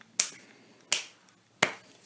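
Three sharp, evenly spaced claps ring out alone, each with a short decaying tail, crisp rather than distant.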